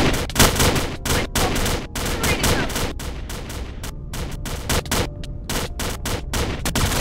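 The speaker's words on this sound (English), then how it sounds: "Holy smokes, there's shots being fired everywhere!" Gunfire in a Minecraft zombie apocalypse game crackles in rapid overlapping bursts, loud and continuous like a fusillade, with brief pauses between volleys and no talking.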